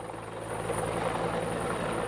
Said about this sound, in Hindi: वाराणसी में सीएम योगी के हेलीकॉप्टर से पक्षी टकरा गया, जिसके बाद हेलीकॉप्टर को एहतियातन पुलिस लाइन ग्राउंड में वापस लैंड कराया गया।